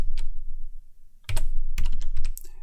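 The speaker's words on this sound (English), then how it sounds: "I'm going to type in the word proof" Fingers type a short word on a computer keyboard, a handful of crisp, close key clicks in quick irregular bursts with a brief pause between them.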